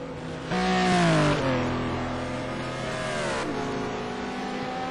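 Project D Porsche race car engine at Anderstorp, a loud rising rev that drops at an upshift, then a sustained high engine whine as the car runs on.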